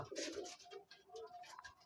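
Homing pigeons in a loft give a short burst of soft, close cooing with a slight rolling rhythm, alone and quiet.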